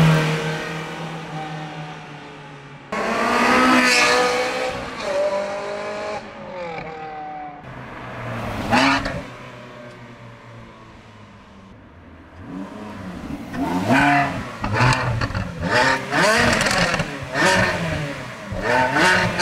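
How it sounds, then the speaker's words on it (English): Ferrari with an F1-style aftermarket exhaust making wide open throttle pulls, repeated high-pitched revving wails climbing and dropping through gear changes, loud and close with brief lulls between bursts. "some wide open throttle pulls"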